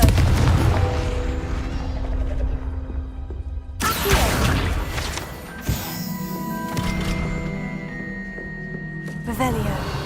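In the video game Hogwarts Legacy, a Confringo spell fires with a sudden booming blast and crackle amid rumbling game sound, followed by a second burst, with a voice calling out spell names.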